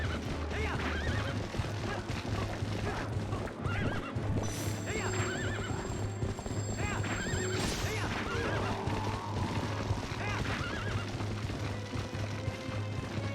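Horse hooves clip-clop steadily with repeated neighs and whinnies over a busy, continuous soundscape in The Legend of Zelda: Twilight Princess, with a steady low hum underneath.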